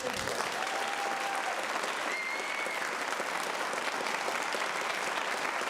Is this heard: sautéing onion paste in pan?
no